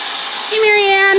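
A hair dryer blows on chalk paste to dry it. A soft hiss gives way to a louder, steady whirring blow with a tonal hum, close by, over about a second.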